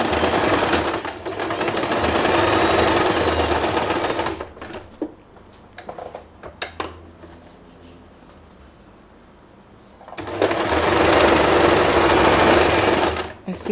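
A sewing machine runs fast, stitching fabric for a hair bow in two steady close bursts, with a quieter pause between them filled by small handling clicks; someone talks at times.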